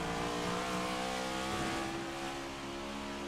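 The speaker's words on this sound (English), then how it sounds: "Revving that thing up." Race car engine revving at Watkins Glen in the iRacing sim racing game, a steady sustained engine drone with harmonic tones that rise and shift through downshifts, moderately loud and alone without talk.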